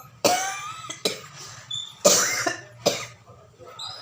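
A woman with a lingering cough gives four sharp coughs close up, spaced about a second apart, each with a raspy tail. The room is otherwise quiet.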